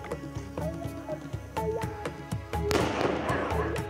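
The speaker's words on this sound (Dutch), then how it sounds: "Mens hoor amper elke nacht die geskiet van klappers vanaf die plase se rigting." Firecrackers set off near farms to drive away elephants, sounding as a scattered string of sharp cracks and pops of varying loudness, some close and some distant, ending in a denser, noisier burst.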